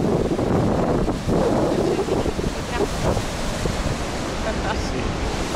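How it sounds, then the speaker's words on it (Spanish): Ocean waves wash steadily onto a beach in Argentina, a dense continuous roar mixed with gusty wind buffeting the microphone. "Me encanta the sound, el sonido del agua, de las olas"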